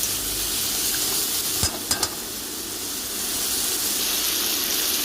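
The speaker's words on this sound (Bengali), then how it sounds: "আবার কড়ার মধ্যে আলুগুলো ভালো করে ভেজে নেব।" Small potatoes frying in hot oil in a kadai give a steady, close sizzle and hiss, broken about two-thirds of the way through by a few sharp clinks of a spoon against the pan.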